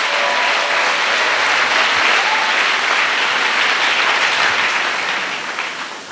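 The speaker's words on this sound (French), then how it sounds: "Clap freedom for Jesus." Worshippers in a church clap together in a sustained, full burst of applause, many hands sounding at once nearby before the clapping thins and fades at the end.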